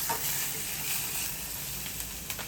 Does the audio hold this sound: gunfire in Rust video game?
no